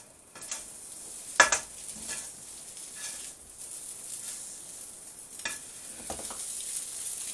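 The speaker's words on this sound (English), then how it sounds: "Keep it constantly on the move here because the egg is trying to cook and we're trying to break it up as we go along." Egg, corned beef and white rice frying in a wok while being stirred and chopped, a steady close sizzle with scraping stirs and a few sharp clanks of the utensil against the pan.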